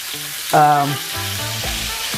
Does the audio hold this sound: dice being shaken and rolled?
no